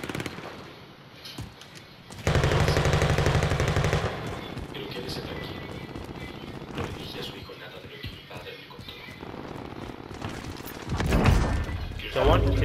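Bursts of rapid gunfire in a shooter video game, a loud sustained volley early on and another near the end, with lighter shots between, under people talking.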